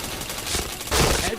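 Rapid chained gunshots in PointBlank, two quick bursts of automatic fire, the second louder and sharper, over continuous game clutter with voices mixed in.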